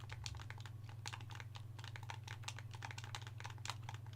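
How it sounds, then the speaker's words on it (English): Rapid, continuous clicking of buttons being spammed on a keyboard or controller while playing Halo 2, a steady patter of light taps over a low electrical hum, fairly faint. "Gotta spam all buttons, so if you hear me clicking, that's what I'm doing."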